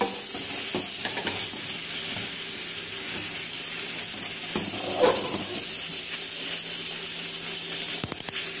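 Closed pressure cooker with beef hump inside, a steady close hiss of steam and faint sizzling that runs continuously, with a few light clicks and knocks.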